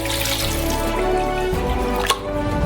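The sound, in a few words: filling a saucepan with water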